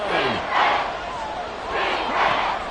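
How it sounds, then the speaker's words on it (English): A stadium crowd in the Madden NFL 24 football game roars at fever pitch, two big swelling surges of massed cheering and shouting that rise and fall, loud and dense throughout. "Work to do here with a crowd at fever pitch."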